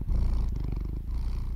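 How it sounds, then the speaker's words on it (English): A cat purrs close and steady in a continuous low rumbling rhythm, loud and alone with no talking. "I hear something purring"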